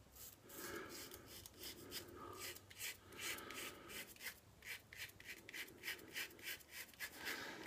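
A Gillette Guard razor dragging across stubble gives close, raspy scraping strokes in short repeated bursts with brief pauses between passes, crisp and fairly quiet, with no voices.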